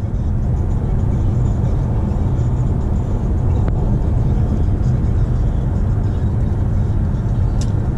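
A Toyota car cruises along a Virginia highway, its steady low road rumble and tire whir constant and unbroken from inside the cabin.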